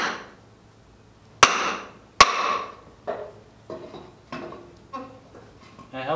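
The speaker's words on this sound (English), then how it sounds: "I got a hole punch right here" A hole punch is driven through a belt in a workshop, giving two sharp, loud strikes about a second apart, followed by someone talking.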